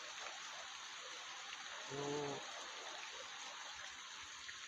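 Steady rain drums on a corrugated metal roof and tiles during a small storm, a dense continuous hiss with a brief low murmur of a voice partway through.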